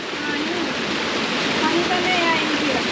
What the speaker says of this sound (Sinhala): මේ වතුර පාර කඩාගෙන වැටෙනවනේ